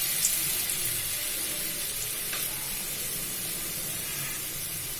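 Mango fritters spattering in hot white oil in a kadai, a steady loud hiss and sizzle of frying with no talk.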